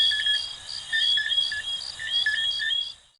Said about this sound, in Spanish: Ese sonido los hacen los sapitos coqui.